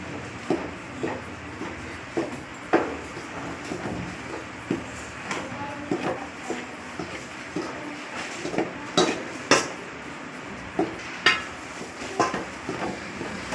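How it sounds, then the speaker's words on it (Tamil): Wheat flour roasting in a pan over low heat, stirred with a steady, rhythmic run of metallic scrapes and clinks against the pan, fairly faint and close, with no talking. "முதல்ல கோதுமை மாவை சிம்மில் வச்சு அதை வறுக்கணும்."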